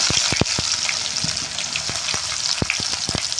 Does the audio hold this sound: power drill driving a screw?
no